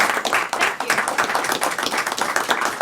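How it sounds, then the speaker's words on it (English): A board meeting audience gives a round of applause, dense continuous hand clapping from a room of people, loud and close, with no talk over it. "I think they deserve a round of applause"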